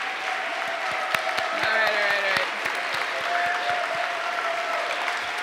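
Audience applause at a summit closing session, steady clapping from a crowd through most of the stretch, with a voice speaking over it briefly.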